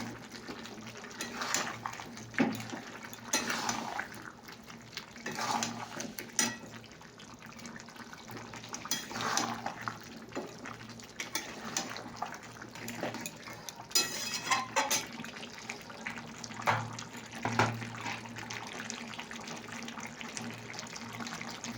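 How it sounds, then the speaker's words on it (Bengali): Water poured into a pan of fish curry with potatoes, a steady splashing and trickling stream with occasional clinks of the pan, fairly quiet throughout. "তো দেখো বন্ধুরা, মাছ কষা হয়ে গেছে। তো আমি জল ঢেলে দিলাম।"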